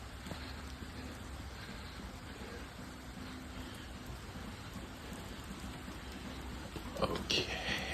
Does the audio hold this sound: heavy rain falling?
yes